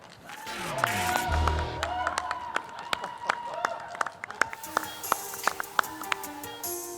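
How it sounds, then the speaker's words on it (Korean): Audience applause welcoming a presenter at a startup showcase, scattered claps sounding faint and sparse at first and then spreading into light, uneven clapping under background music. "박수로 맞이해 주시기 바랍니다."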